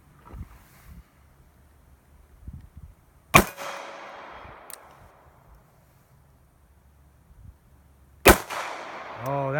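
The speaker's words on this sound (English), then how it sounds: "I'm gonna shoot a couple shots single action, because it has a really nice single action" Two sharp single-action revolver shots from a Colt Cobra or S&W 649 with a 2-inch barrel, fired at 25 yards outdoors, each a loud crack with a trailing echo, several seconds apart amid wind noise.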